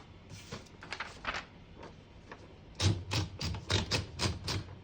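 Keys strike on a 1941 Remington Envoy portable manual typewriter, a sparse few taps and then a quicker run of sharp, close clacks with no talking.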